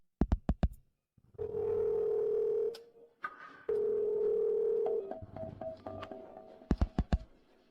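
A phone call rings out unanswered: sharp keypad taps, long steady ringback tones separated by a gap, then a shorter tone pattern and more taps, heard alone and close.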